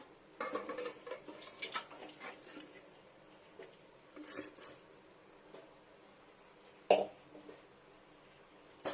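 Fish curry being ladled out of a pot, with scattered clinks and scrapes of a spoon against metal and soft liquid pours, one sharp clank standing out among quieter stretches.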